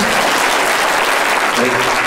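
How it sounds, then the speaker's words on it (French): An audience at a cinema screening in Beauvais applauds, steady dense clapping filling the room loudly and evenly from start to finish. "Vous pouvez l'applaudir, mon petit."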